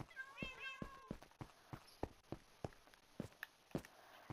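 Blocky Minecraft cats meow several times in the first second, quick high chirping calls, followed by a steady run of sharp clicks and soft thuds at even intervals, likely in-game footsteps.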